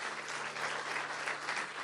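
A congregation claps during a church service, steady dense applause filling the whole stretch at moderate volume with no pause.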